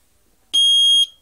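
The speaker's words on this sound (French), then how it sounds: "vous avez un signal sonore pour arrêter les bips" A type 2b fire alarm unit, the AVISS EVAC 2b, sounds a single piercing electronic beep lasting about half a second, loud and close, against an otherwise silent room.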